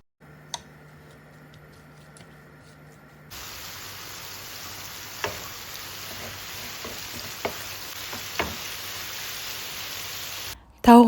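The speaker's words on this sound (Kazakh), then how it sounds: "Қызып тұрған сковородканың үстіне тауық етін салып, қуырып аламыз." Chicken frying in a hot pan, a soft steady sizzle that starts a few seconds in, with occasional clicks and taps from stirring, then a louder burst at the end.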